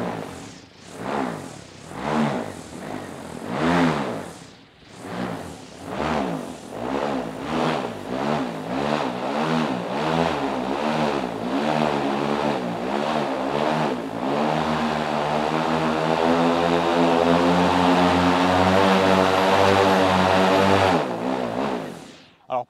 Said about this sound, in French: Ça monte dans les tours de manière hallucinante